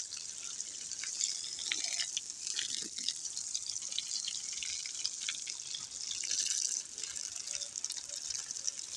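Water from a submersible pump pours onto vegetables growing on a pond bank, a soft, steady rushing and splashing heard at a distance outdoors, fairly quiet throughout.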